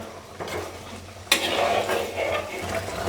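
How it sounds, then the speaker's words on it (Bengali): Lentils cooked with ivy gourd leaves are stirred in a pot, with a soft scrape and then a louder burst of sizzling and clattering that runs to the end, and no voices. "ডালটা একটু কষিয়ে নিলাম"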